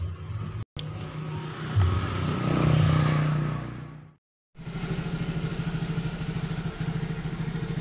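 A freshly assembled Yamaha Mio GT scooter engine runs nearby with a steady mechanical idle, a brief rise in revs partway through, then a cut to silence before it resumes with a rhythmic putter.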